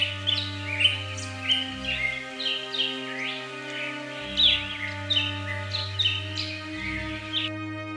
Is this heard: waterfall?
no